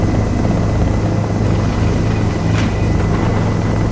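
Helicopter descending toward an offshore oil platform, heard from inside as a loud, steady roar of engine and rotor with a constant low throb and no gaps.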